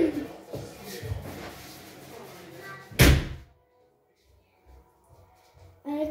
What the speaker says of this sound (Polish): zamknę drzwi.